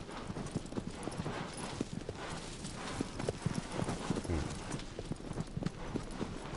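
Horse hooves clip-clopping at a steady gallop across open ground in the Shadow of the Colossus game, a continuous rhythmic pounding with a faint background wash and an occasional snort.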